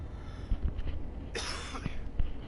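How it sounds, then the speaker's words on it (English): A single short, fairly quiet cough from a person near a microphone during a Cyberpunk 2077 playthrough, heard as a brief burst over low room noise. "I will do my best to not cough directly into the microphone and be disgusting"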